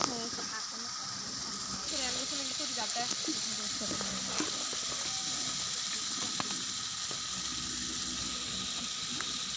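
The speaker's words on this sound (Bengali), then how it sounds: "আমি লাউ রান্না করার জন্য মশলাগুলো কষিয়ে নিচ্ছি" Spices sizzling in a pan as they are sautéed for a bottle gourd curry on a new stove, a steady fry hiss running throughout with occasional stirring and light clinks, while a person talks over it.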